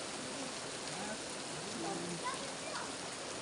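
Steady rain falls around an outdoor swimming pool, a dense, even hiss of drops on water and surfaces that holds level throughout, with faint voices and small splashes mixed in underneath.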